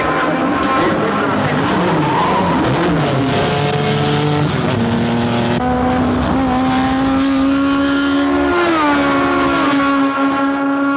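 A racing car speeding around a race track, its engine roaring loud and continuous with rising and shifting pitch as it accelerates and changes gear, a steady close drone throughout.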